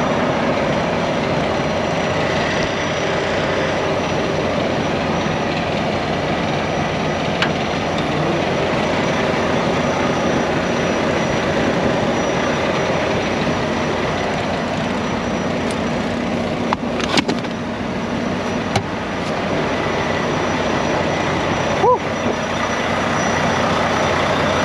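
A truck engine runs at a steady, loud idle throughout a pre-trip check by an owner-operator trucker, with a continuous low rumble and a couple of brief clicks or knocks near the end.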